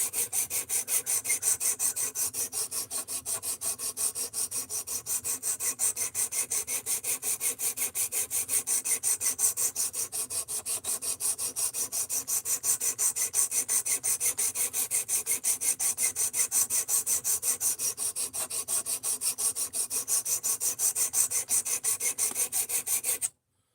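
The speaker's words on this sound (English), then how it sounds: "This is 220 grit. 220 grit is the lowest this thing goes." A 220-grit sandpaper sanding, heard as a fast, even rasp of back-and-forth strokes that continues steadily for over twenty seconds with no talking.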